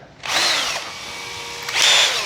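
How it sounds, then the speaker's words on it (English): Power drill fitted with a small 3/32 inch bit, boring holes for LED wiring on an OMP Hobby Bushmaster 65-inch model plane: a close, high whirring burst, a brief lull, then a second whine as it spins up again. "I'm gonna get a real small drill bit, probably 3/32 of an inch, like this."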